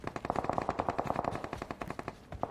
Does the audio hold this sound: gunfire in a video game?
yes